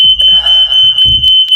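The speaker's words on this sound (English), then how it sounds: "Our alarm goes off all the time" A household smoke alarm going off indoors, a loud, piercing high tone pulsing repeatedly at close range, with other sounds muddled beneath it.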